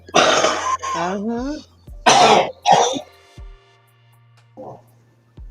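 Harsh coughs and throat clearing come in bursts close to the mic, mixed with a brief voice sound and quiet gaps between.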